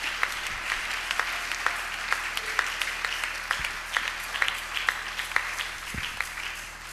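A church congregation applauds and cheers in praise during a worship service, a steady roar of clapping with sharp individual claps standing out throughout, fairly close and full.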